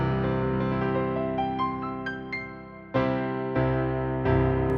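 Kawai ES520 digital piano with its virtual lid fully open, playing a sequence of bright, sustained notes and full chords that ring loudly, each fresh chord striking with a strong attack.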